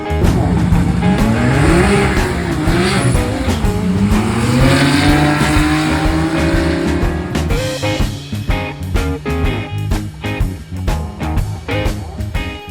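A twin-turbo inline-six Datsun race car engine roars at high revs, pitch sweeping up and down, then cuts into choppy bursts and sputters as it spins out on launch; loud and close.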